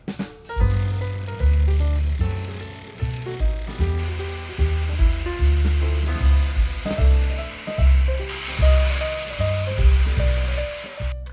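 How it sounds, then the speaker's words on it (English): Welding a shock mount onto a go-kart frame produces repeated loud bursts of crackling buzz in an uneven rhythm of short welds, close up and with no talk. "we're going to do a little bit of fabricating real quick and get this welded up"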